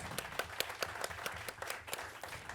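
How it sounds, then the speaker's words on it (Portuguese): Audience applause at a percussion recital, a steady patter of many hands clapping with sharp individual claps standing out, moderately loud and with no voices over it. "Salva de palmas."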